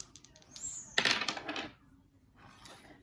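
Dice tumbling and clattering across a board during a Monopoly game, a sharp burst of rattling that rolls for about a second and then settles, followed by a faint brief shuffle.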